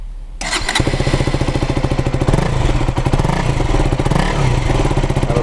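A KTM Duke 200 motorcycle engine cranks and catches after a brief quiet moment, then runs at a steady, loud, close idle with a rapid rhythmic single-cylinder pulse, no voices.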